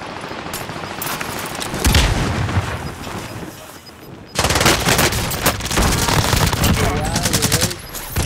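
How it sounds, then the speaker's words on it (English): Sustained automatic gunfire from a Call of Duty Warzone Rebirth quads match, dense rapid bursts and booming shots layered throughout, loudest in a long volley through the second half. "Taking fire. Taking fire. Bastard trying to shoot me."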